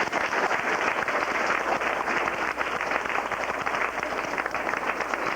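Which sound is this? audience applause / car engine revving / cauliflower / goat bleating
audience applause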